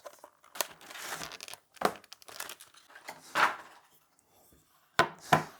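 Packaging crinkles and tears in several separate bursts, with pauses between them, as a frosted two-tone wrist rest for a NuPhy Gem80 mechanical keyboard is unpacked and fitted nearby.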